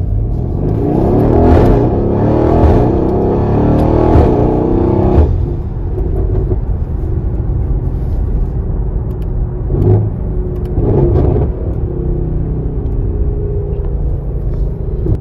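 Mercedes-AMG GLC63s fitted with custom Dynomotive dump pipes, heard from inside the cabin: a deep, loud exhaust drone and rumble swells as the engine revs for about five seconds, then settles into a steady lower growl with brief throttle blips.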